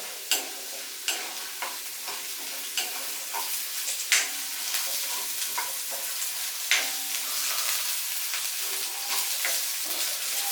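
Urad dal frying in a pan for a Kerala flattened-rice kozhukatta, giving a steady close hiss and crackle broken by sharp scraping clicks from stirring with a spoon, with no voices.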